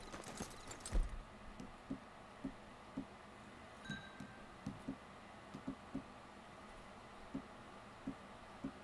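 A horse's hooves clip-clop at a steady walking pace in Red Dead Redemption 2, quiet and fairly near over a low, faint ambient background, with no talk.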